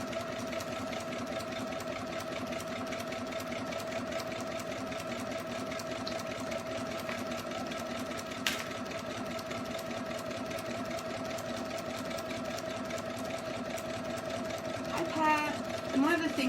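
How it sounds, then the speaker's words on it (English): A sewing machine runs steadily, stitching fabric in a straight line for a quillow, its mechanical hum continuous and close throughout, with a brief click midway and some rustling near the end. "If I'm just sewing right along the line"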